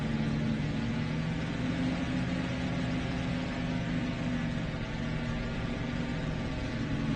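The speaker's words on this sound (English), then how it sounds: "Okay, so now the engines are running, the aircraft is fully loaded, we just pull our flaps." Piston aircraft engines in the DCS flight simulator running steadily while taxiing, a continuous even droning rumble with no pauses, moderately loud and alone.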